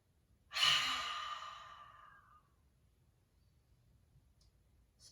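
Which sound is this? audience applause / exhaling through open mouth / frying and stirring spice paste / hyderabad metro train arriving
exhaling through open mouth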